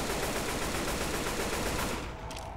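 Turret machine gun fire in Left 4 Dead 2 rattles in a continuous rapid burst for about two seconds, dense and loud, then cuts off into quieter background.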